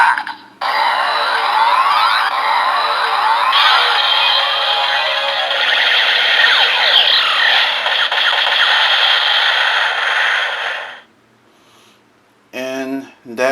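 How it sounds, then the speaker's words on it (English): A Kamen Rider Zero-One DX Metal Cluster Hopper Progrise Key toy plays its loud electronic final-attack sound effect and music for about ten seconds, then cuts off, followed by a brief burst of further toy audio. "And now for the final attack, pressing the Progrise key."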